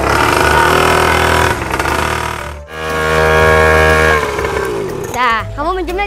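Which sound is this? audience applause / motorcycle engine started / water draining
motorcycle engine started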